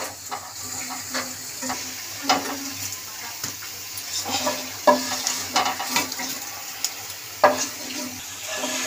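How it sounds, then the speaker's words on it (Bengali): Amudi fish fry crisp in hot oil, a close, continuous sizzling hiss with repeated louder crackles and spatters from moving the pieces. "মাছগুলো ভেজে নেব ভালো করে কড়া করে"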